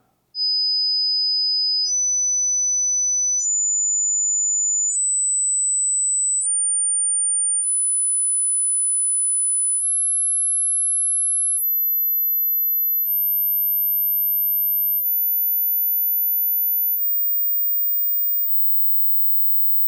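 Pure sine test tones climb from 5000 hertz in 1000 hertz steps, each a steady held pitch lasting about one and a half seconds, piercing and alone, ending abruptly at the top.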